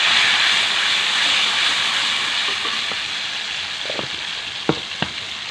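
Blended onion, garlic and ginger fry in a pan with a steady, loud sizzle and hiss throughout, joined near the end by a few sharp pops and spatters.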